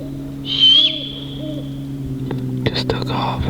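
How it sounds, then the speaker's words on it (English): A single sharp, whistled owl call rings out in the woods of Indiana public land during the deer rut, followed by soft rustling and hushed whispering nearby. "Is it a hawk and an owl fighting?"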